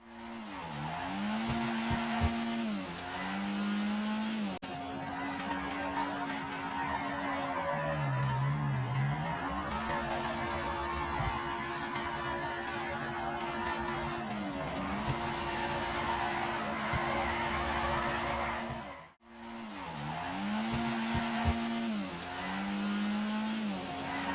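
Car drifting through a corner in GTA 5, tires squealing in long sustained wails that rise and dip with the slide under steady engine roar, with one brief cut near the end before the squeal resumes.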